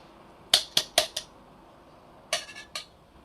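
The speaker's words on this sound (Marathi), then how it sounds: "आता ही पावडर या भांड्यामध्ये काढून घेते मी" Metal spoon scraping and tapping freshly ground metkut spice powder out of a mixer jar into a vessel, four quick clinks followed by a pause and a few more taps, close and fairly quiet.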